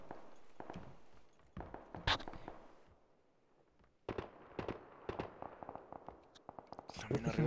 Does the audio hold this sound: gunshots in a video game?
yes